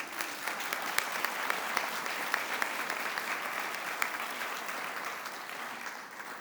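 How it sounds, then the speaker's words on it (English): Steady applause from an audience at a memorial ceremony, many hands clapping evenly for several seconds before gradually thinning out. "give everybody a round of applause"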